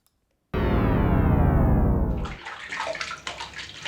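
Water runs from a tap for hand washing, bursting on abruptly after a moment of silence into a loud, steady rush, then shifting to a choppier splashing as the hands move under the stream.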